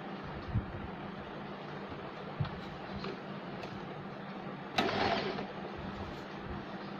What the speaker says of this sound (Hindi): ये देखिए इस तरह से हम सिलाई लगाएंगे झिकझक की।